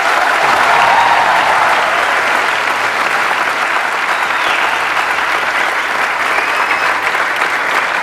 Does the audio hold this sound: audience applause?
yes